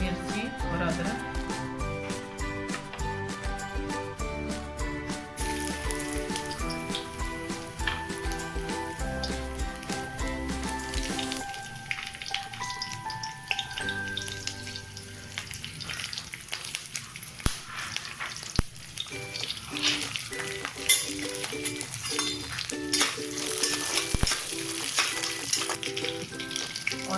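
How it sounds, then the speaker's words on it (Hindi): Green chilli and ginger drop into hot oil for a stuffed-eggplant masala, a sizzle that comes through mostly in the second half, after steady music fades and under faint background sound. "तो तेल अब गरम हो गई है। चलिए अब इसमें डाल देते हैं मिर्ची और अदरक।"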